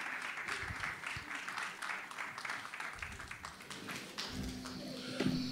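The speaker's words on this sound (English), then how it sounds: "Let's keep clapping." A conference crowd claps steadily for about five seconds at a youth event, a dense, continuous patter of many hands at moderate distance, with faint voices mixed underneath.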